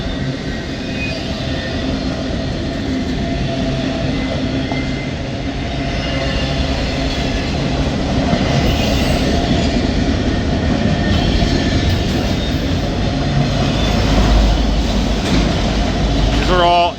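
A Norfolk Southern freight train hauling new, empty autorack cars rolls past on an elevated curve in Vermilion, Ohio, a loud continuous rumble and wheel noise throughout with a speaking voice over it.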